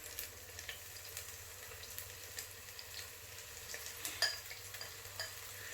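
Beer-battered onion rings fry in a deep fryer, the oil sizzling and bubbling softly and steadily with a few faint clinks.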